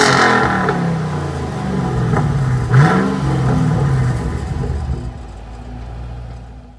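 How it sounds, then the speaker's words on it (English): A 2005 Ford Mustang GT's V8 engine rumbles loudly and revs up with a rising, throaty roar, then settles back to a deep idle. "insert the clip right here of us revving the car"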